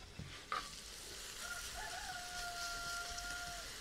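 Potatoes coated in garlic paste fry in a disc pan outdoors, a steady low sizzle running throughout with a single knock near the start; a faint rooster crows in the distance partway through.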